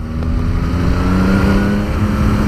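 A Ferrari goes by on a road, a steady loud engine drone with a tonal hum that swells slightly and then eases, heard close over continuous wind and road noise.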